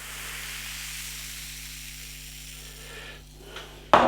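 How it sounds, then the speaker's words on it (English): Steady fizzing hiss of carbonated Berliner Weisse beer in a glass, close and soft, slowly fading, ending with a sudden louder knock. "Have a listen to this hiss, guys."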